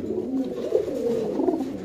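Soft, throaty cooing of a fancy Palla line pigeon, a few low rolling coos in a row, close by and fairly quiet.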